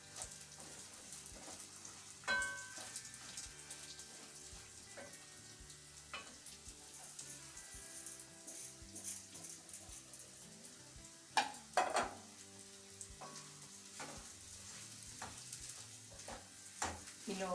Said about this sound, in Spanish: Y lo vamos revolviendo hasta que el arroz comience a dorar.